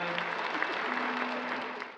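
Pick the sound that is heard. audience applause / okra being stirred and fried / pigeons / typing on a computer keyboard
audience applause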